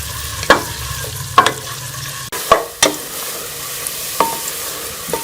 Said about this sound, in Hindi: उनको काट के अब हम इसमें शामिल कर लेंगे और इसे लाइट गोल्डन कलर आने तक फ्राई कर लेंगे प्याज को